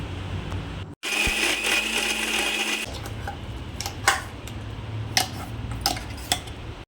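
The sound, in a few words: mixer grinder grinding cooked citron chutney into paste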